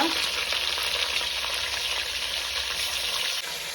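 Chicken frying with ginger and garlic in a pan for a chicken gravy. A loud, continuous, close hissing sizzle with faint stirring underneath eases slightly near the end, with no speech.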